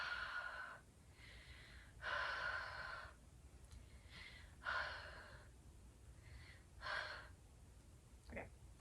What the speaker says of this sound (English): you breathe on it to soften it up